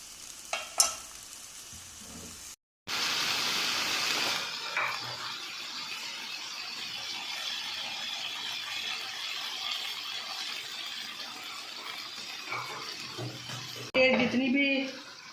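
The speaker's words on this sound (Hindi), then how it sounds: "ये जो कुकिंग ऑयल बताया था ये डालने लगी हूँ।" Cooking oil poured into a hot pan for a potato and scrambled egg dish sets off a loud, steady sizzle, with stirring and clinks of a utensil near the end.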